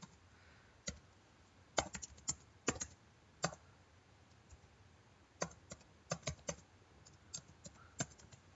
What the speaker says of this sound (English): by typing in the following command